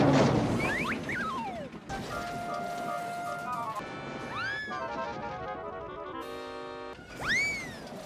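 Quieter, sillier Thomas & Friends train crash sound effects: a light cartoonish crash followed by boings, slide-whistle swoops and tinkly xylophone-like tones, moderate and playful rather than heavy.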